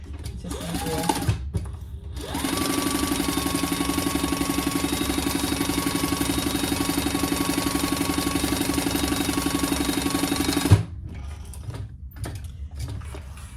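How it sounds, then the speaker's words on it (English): A sewing machine stitches a hobo shoulder bag from the interfaced side in one steady, fast run of about eight seconds, with brief mechanical clicks before and after; close and fairly loud with no talk. "I'm gonna stitch from this interface side."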